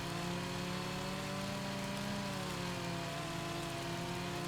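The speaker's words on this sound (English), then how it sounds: "the chainsaws are so funny. It's like the tiniest little chainsaw." A small chainsaw cuts through a tree trunk in the video game Farming Simulator 25, giving off a continuous buzzing engine drone that holds steady and loud for the whole stretch, with no voices over it.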